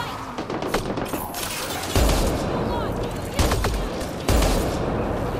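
Enemy gunfire in the sci-fi shooter Mass Effect Andromeda, with several heavy bursts and impacts landing at intervals over a busy, noisy combat backdrop.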